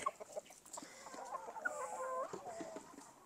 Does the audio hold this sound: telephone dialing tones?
no